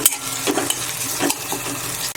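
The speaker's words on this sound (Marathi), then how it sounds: "टोमॅटो घालून घेते अर्धा मिनिट आपण असं परतून त्याला शिजून घेऊया." Tomatoes for a cluster bean curry are stirred and sautéed in a pan, giving a close, loud sizzle with a few quick scrapes and taps of the spoon over a short stretch.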